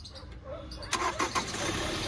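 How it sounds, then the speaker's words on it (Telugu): A 2015 Hyundai Creta SX+ automatic starts up with one short crank that catches into a low, steady engine hum, nearby and fairly quiet. "సింగిల్ సెల్ఫ్లో బండి స్టార్ట్ అవుతుంది సార్"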